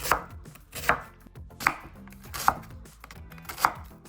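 A knife chops a red onion into rings on a cutting board, five crisp evenly spaced thuds about a second apart, close and clear with no talking.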